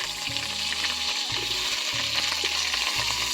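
Potatoes frying in a big wok of hot oil, a close, steady crackling sizzle with stirring sounds and a pulsing low hum beneath, no voices.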